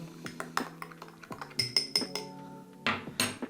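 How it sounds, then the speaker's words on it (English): A small spoon stirs cream into a cup of espresso, clinking repeatedly against the ceramic in quick, light, close taps with brief pauses. "Give it a bit of a stir."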